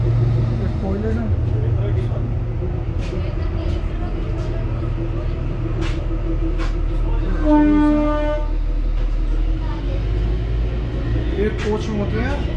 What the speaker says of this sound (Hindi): भाई टॉय ट्रेन तो मस्त है, आपको अंदर से दिखा देता हूँ।